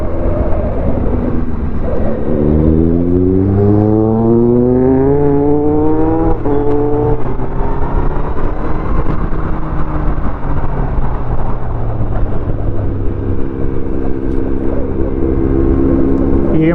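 Triumph Daytona 675 and Kawasaki Z900 motorcycles fitted with aftermarket exhausts rev loudly and close by. Engine pitch climbs in repeated rising sweeps, then settles into a steady drone, with no talk over it.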